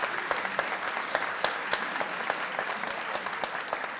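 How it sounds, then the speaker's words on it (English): A school audience at a spring sports awards ceremony applauds the baseball and softball teams, a steady wash of many hands clapping with sharper individual claps standing out, fairly close and without talk. "let's give our baseball and softball teams a big round of applause"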